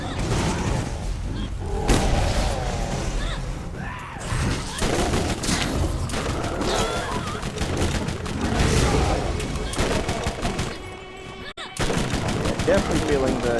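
Rapid bursts of automatic gunfire from a weapon in a zombie shooter video game, a fast crackling fusillade running almost without pause through the whole stretch, loud and close, with game effects mixed in.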